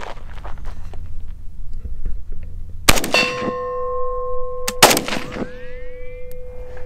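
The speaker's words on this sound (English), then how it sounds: "You like the ricochet sounds?" Two loud AK-47 shots firing 7.62x39 rounds ring out, each followed by a sharp metallic clang and a lingering ringing tone as bullets ricochet off an oxygen tank, outdoors.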